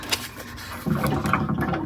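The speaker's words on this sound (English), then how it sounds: "it actually releases the pressure and then the water actually starts to leave" Water rushes from the opened drain valve of a home tank water heater, a hiss and splash that swells after a short scraping start and keeps pouring steadily up close.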